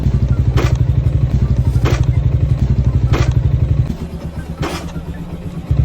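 A Malaysian-style Sniper 155 motorcycle with a stock pipe rumbles along in a steady, pulsing idle-to-low-speed drone, with periodic scraping bursts as the underside drags on the ground, then the engine note drops and softens near the end.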